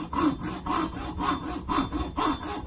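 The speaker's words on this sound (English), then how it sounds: "he's taking a hacksaw to a cylinder" A hacksaw cuts through a metal cylinder in steady back-and-forth strokes, about five rasping passes in a regular rhythm, close and moderately quiet with no talking.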